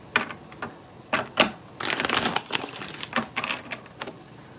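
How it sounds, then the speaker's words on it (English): Tarot cards being shuffled close by, a series of quiet crisp riffling bursts and taps with one longer shuffle in the middle, no talking. "3 more shuffles and let's do it."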